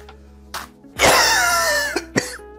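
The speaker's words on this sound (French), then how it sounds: "Tu tousses et tout." A person coughs after tasting vegetables, first a couple of short throat sounds, then a loud, sustained harsh cough followed by two brief sharp coughs, close to the microphone with no talk.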